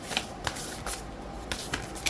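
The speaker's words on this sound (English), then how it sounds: "Okay, I'm gonna take this card." A deck of tarot cards is handled and a card is drawn, with a quick run of crisp papery flicks and riffles close by.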